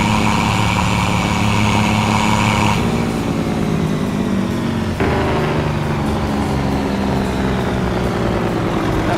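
Farming Simulator 25 truck engine running hard with its Jake brake engaged on the high setting, a loud, continuous low rumble and drone with shifts in tone partway through, heard alone.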